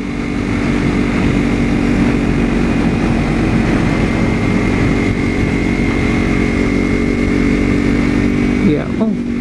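A motorcycle engine drones steadily while riding on an Indian road, loud and close with constant wind rumble, under a rider talking throughout.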